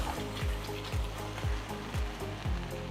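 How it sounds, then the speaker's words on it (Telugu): Ground masala paste frying in a pan over low flame for paneer lababdar, a steady close sizzle and crackle with repeated low scraping thumps of stirring about every half second, no talking. "ఇప్పుడు ఇందులో ముందుగా రుబ్బుకున్న మసాలా పేస్ట్ని వేస్తున్నాను."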